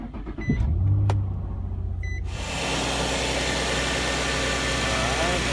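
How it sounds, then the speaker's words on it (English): Infiniti G35 or Nissan 350Z engine cranking and starting after an oil change, then settling into a steady, close idle hum with a brief high electronic tone near the start. "next start the car for about 30 seconds"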